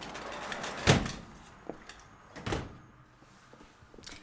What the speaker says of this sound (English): I'm just gonna close the door on him.